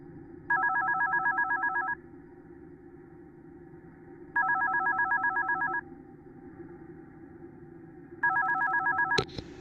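Telephone ringing in the horror video game One Night at Flumpty's: three separate bursts of a bright, warbling electronic ring, evenly spaced and alone over a low background hum, ending in a sharp click.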